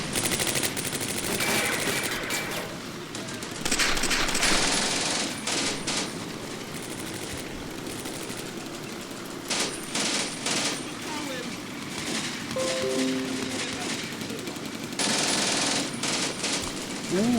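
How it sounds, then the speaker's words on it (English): Sustained bursts of Vickers machine gun fire in the World War II tactical video game Combat Mission, rattling rapidly in repeated long volleys over a continuous battle din, with distant shots between bursts. "We got a Vickers firing away"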